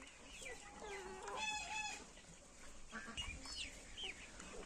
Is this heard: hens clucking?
yes